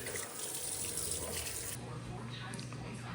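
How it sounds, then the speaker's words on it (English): A kitchen tap runs steadily, rinsing brine off a turkey, with water splashing in the sink; the gush is close and shifts slightly in tone partway through. "So I'm going to go ahead and finish rinsing it off"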